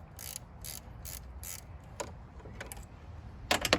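Ratchet wrench clicking in quick bursts while cracking loose the engine mount bolts on a 1996 VW Passat TDI, close and fairly loud in a quiet workspace with a few metallic clinks.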